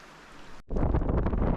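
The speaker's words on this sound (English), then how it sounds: "it's raining like a bugger. It's windy." Gusty wind buffets the microphone outdoors by Emmerson Creek, New Brunswick, with rain spattering loudly after a brief lull; a steady, rough roar fills the whole clip.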